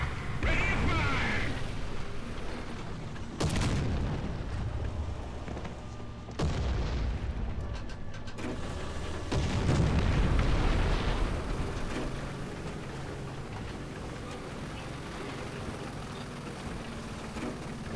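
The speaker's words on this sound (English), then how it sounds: "Requesting barrage on me! Repeat, requesting barrage on me!" An artillery barrage in War Thunder ground battles with a PzKpfw IV ausf. C: loud, close explosions land one after another, sharp booms at irregular intervals with rumbling debris and gunfire between them.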